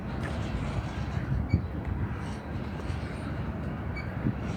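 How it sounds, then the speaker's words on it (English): Eastbound crude oil freight train led by CP 7015 rumbling past nearby, a steady low grinding roar of wagons rolling along the rails with occasional clanks, continuous throughout. "I know this crude oil train would be in the 500 number specification somewhere"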